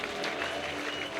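A church congregation at a French-language worship service applauding and cheering together, a dense, continuous wash of clapping with crowd voices mixed in.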